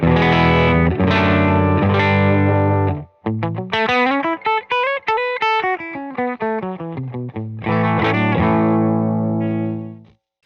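Electric guitar, a Scythe Guitars OH20, through the Spun Loud Blister and Peel V2 fuzz pedal and a Benson Amps Monarch reverb: thick fuzzed chords, a break, then a rising and falling run of single distorted notes, then ringing chords again.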